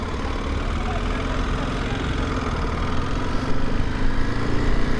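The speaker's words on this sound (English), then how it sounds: "we're off with a much improved bike" A motorcycle engine running steadily just after a repair somewhere in Africa, a continuous near, loud drone with a rough low rumble that swells slightly toward the end.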